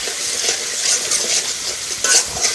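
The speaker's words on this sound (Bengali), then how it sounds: "দেবো চিনি, টক দই, মশলাটা ভালোভাবে কষে নেব।" Masala with sugar and sour yogurt being stirred and fried in a pan, a loud close sizzle with repeated scraping strokes in uneven bursts.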